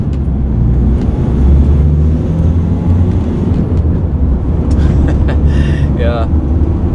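A 2018 Renault Trucks Master 4x4 van's engine drones steadily inside the cab as it accelerates and the pitch climbs toward the end, with someone talking over it.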